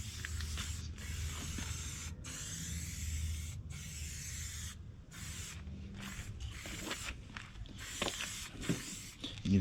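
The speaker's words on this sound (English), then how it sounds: "So I want to spray this on there, and it should give it like a glossy finish." Aerosol plastic restorer sprayed from a can onto the black plastic of a John Deere X304 lawn tractor, heard as a steady close hiss that runs almost continuously, broken by a few short pauses between bursts.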